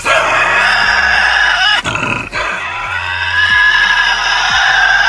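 A Tasmanian devil lets out harsh, rasping yells and guttural growls, loud and close, a continuous snarling noise broken by a couple of sharp bursts.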